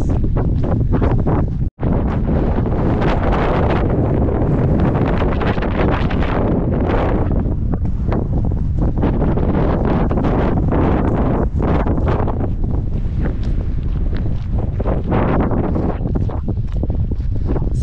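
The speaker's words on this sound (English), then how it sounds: "Just like walking almost directly into the wind for ages." Strong wind buffets the microphone during a long hike from Boscastle to Wadebridge over Bodmin Moor, walking straight into it; a loud, constant roar with gusting surges and one brief dropout, no talking.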